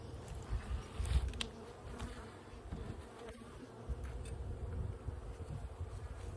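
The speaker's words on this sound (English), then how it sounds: "today we're going to be releasing this package of bees into their new home" Honeybees from a package swarm and buzz close to the microphone as they are released into a new hive of ten frames, a dense, wavering drone with louder swells as insects pass near.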